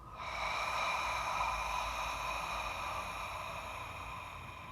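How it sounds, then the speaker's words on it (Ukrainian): A long, steady breathy exhale through the mouth during a relaxation meditation, a close airy rush that swells and slowly fades with no words over it. "Видих через рот зі звуком."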